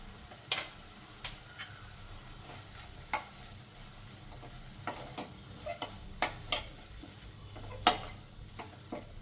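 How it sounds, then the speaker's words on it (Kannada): Capsicum frying in a pan with salt, coriander powder and pepper powder for an egg fry, a low continuous sizzle broken by repeated sharp clicks and taps of a spatula against the pan, with no talking. "ಇದನ್ನ ಇನ್ನೊಂದು 2 ಮಿನಿಟ್ಸ್ ಫ್ರೈ ಮಾಡ್ಕೊಳ್ಳಿ."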